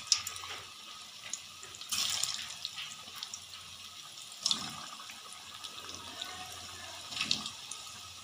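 Potato koftas frying in hot oil give off a steady crackling sizzle, with louder bursts of spattering at a few moments and no talking.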